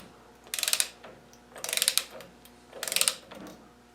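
Ratcheting tool winding a nut down on a TDI VE diesel injection pump, three quick bursts of rapid clicking close by, each lasting a fraction of a second with short pauses between.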